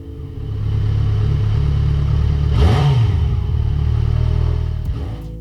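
A Yamaha XJ6N motorcycle engine runs steadily after being reinstalled, a close, even mid-pitched drone with one brief rev near the middle.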